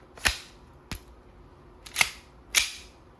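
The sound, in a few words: WE Hi-Capa 5.1 Type R gas blowback airsoft pistol firing steel BBs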